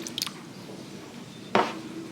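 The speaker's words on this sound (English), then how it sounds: "We're going to go in with a splash of water." A splash of water is poured into a bowl of egg whites, landing as one short, wet burst partway through an otherwise quiet kitchen moment.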